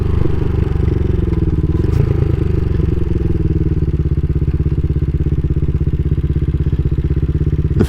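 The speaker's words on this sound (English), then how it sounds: "The fact that the bike just started right up, idles very nicely," A CSC SG250 motorcycle fitted with a MotoCult Stage 4 kit and a Nibby carburetor idles steadily and close by, a loud, even, low engine thrum with a fast regular pulse that holds for the whole stretch.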